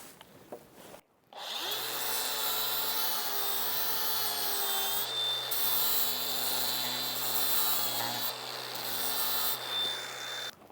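Power grinder working wooden boards, a steady loud whining buzz with a low hum that runs continuously for about nine seconds after a brief quiet start, shifting pitch slightly as it bears into the wood.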